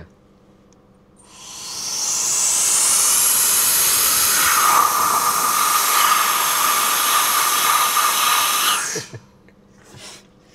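A YOOLE turbo handheld fan blowing at full power, a loud steady high-pitched jet-like whoosh rising in after a quiet start, holding for several seconds, then cutting off abruptly.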